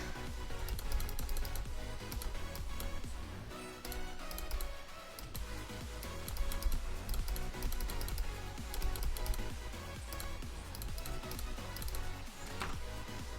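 Quick clicks from playing the rhythm game Geometry Dash, a run of sharp ticks in irregular bursts, heard under loud, busy electronic game music that plays throughout.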